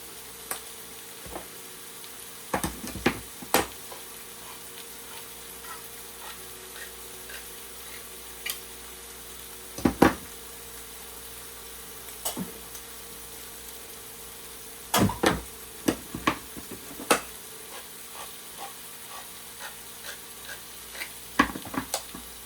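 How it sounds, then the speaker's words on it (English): Chili with pinto beans, black beans and Hatch green chilies simmering and sizzling steadily in a pot, with scattered sharp clinks and scrapes of a spoon stirring, close and fairly quiet. "Quick stir."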